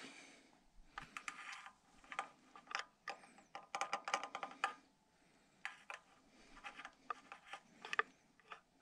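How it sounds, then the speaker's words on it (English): Long needle nose pliers fishing a loose rubber piece out of a Toyota engine, with faint metallic scraping, rubbing and small clicks in irregular bursts, close and quiet. "Just going to use these long needle nose pliers here."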